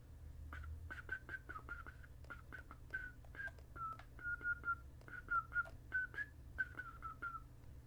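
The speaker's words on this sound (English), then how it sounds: "Don't ask me why I was just whistling." A person whistles a meandering tune of short repeated notes in an uneven rhythm, fairly close and alone over a low steady hum.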